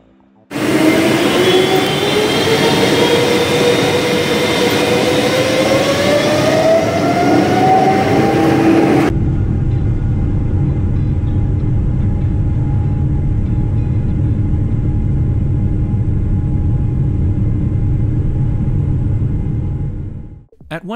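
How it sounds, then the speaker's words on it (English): A refurbished Delta Boeing 777 taxis out to the active runway before a Sydney to Los Angeles flight. Loud, continuous cabin rumble carries a rising engine whine for the first half, then settles into a steady low drone. "we'd pushed back and were taxiing out to the active runway"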